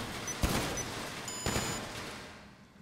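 Two separate gunshots about a second apart at targets in a GTA Online shooting contest, sharp cracks over a steady background hum, with no talking.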